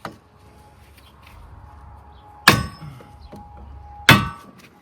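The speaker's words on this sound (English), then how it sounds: "I don't want to hit right on the metal, so I got a wooden block here. I'm just going to try hitting on the block." A hammer strikes a wooden block held against the front wheel bearing of a 2004 Mini Cooper, two sharp metallic clangs a couple of seconds apart with ringing decay, plus a fainter knock at the start.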